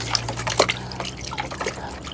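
Water sloshes and trickles as dogs are dipped to cool off, irregular splashes and drips close by with a low steady hum underneath and no talk.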